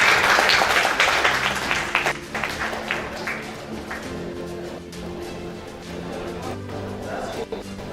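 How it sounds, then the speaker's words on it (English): Audience applause at an informatics and computing conference, a broad wash of clapping that is strongest at the start and then thins and fades, with sustained tones and faint voices continuing beneath it. "Please give applause."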